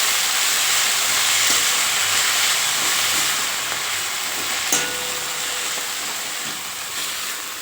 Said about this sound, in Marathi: ही मेथी आता आपल्याला यामध्ये टाकून घ्यायची। आणि ही मेथी आपण परतून घेऊ आता।